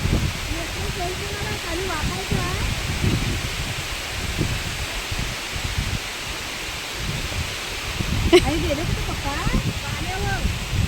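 Heavy monsoon rain pours onto paddy fields in Konkan during rice transplanting, a dense, steady roar of hiss that never lets up, with voices talking over it now and then.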